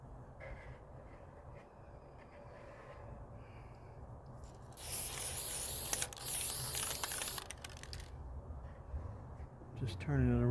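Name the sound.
spray painting a coat on a motorcycle helmet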